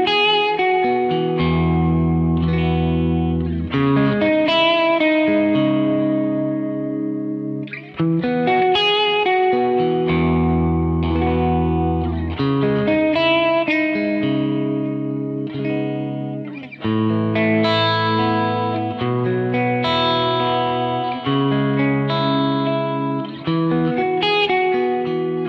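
A Rickenbacker electric guitar with low-output pickups plays sustained chords through effects, heard up close with a chorus-like, reverberant tone and steady loudness, with no talking.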